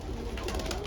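A Madrasi pigeon coos on a rooftop, a soft, low, throaty coo that is brief and close with faint background noise.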